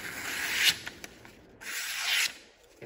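A cloth or rag rubs along a TRM Shadow pocket knife blade in two brisk wiping strokes, a soft close-up swishing scrape with a short pause between passes.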